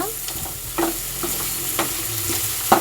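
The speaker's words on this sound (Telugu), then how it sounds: "ఇప్పుడు ఈ ఉల్లిపాయ పచ్చిమిర్చిని నూనెలో చక్కగా వేపుకోవాలన్నమాట." Onion and green chillies fry in hot oil in a pan, a steady close sizzle broken by several scraping stirs of a spoon, with no talking.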